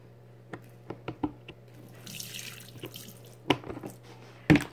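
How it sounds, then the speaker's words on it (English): Water mixed with dechlorinator poured in small splashes into a leopard gecko tank, giving a string of sharp drips and splashes with a brief trickle in the middle, close and fairly quiet over a steady low hum. "So I'm just going to just pour a little bit in there."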